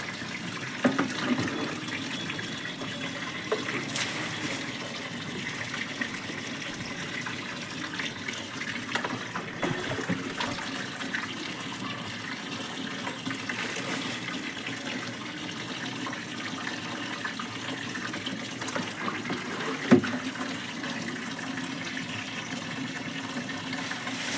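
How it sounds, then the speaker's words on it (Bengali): A garden tap turned fully open but with weak water pressure runs steadily onto plants at night, producing a constant, moderate gushing and splashing with a few small louder spatters. "পুরো কল খুলে দিয়েছি। আমার মতন করে তোমরাও গাছে জল দাও।"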